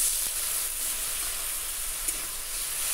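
Spice paste frying in a pan for a lote fish curry, a steady close sizzle and hiss running evenly throughout, with no voices.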